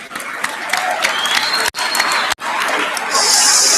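Loud, close applause from students and staff at an all-school assembly, dense clapping with some chatter mixed in, cut by two short dropouts, then swelling stronger toward the end.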